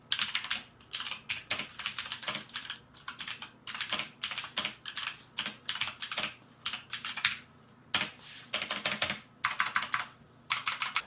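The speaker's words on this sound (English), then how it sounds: "let's just quickly get into a sound test and hear how these Razer green switches sound" Clicky mechanical keyboard typing on Razer Green switches of a 2019 Razer BlackWidow, steady bursts of sharp keystrokes close up with no talking.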